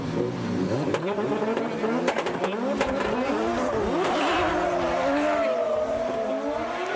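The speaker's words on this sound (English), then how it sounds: "Burning some tires there." Two drift cars, an N-Style GR86 and a BMW, battling at a Formula Drift Japan round at Sportsland Sugo, with engines revving and tires squealing in a long, continuous howl while a commentator talks over it.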